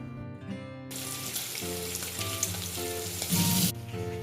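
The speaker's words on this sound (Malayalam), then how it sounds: "കൊഞ്ച് അവിടെ ഫ്രൈ ആവുന്ന നേരം കൊണ്ട്" Prawns fry in a small amount of oil in a pan, a loud steady sizzle that rises and crackles, with brief stirring noises mixed in.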